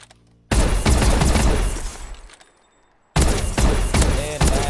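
Loud shotgun blasts in a Call of Duty: Advanced Warfare team deathmatch on the Havoc map, two dense bursts of fire separated by a quiet gap, with a decaying tail after the first.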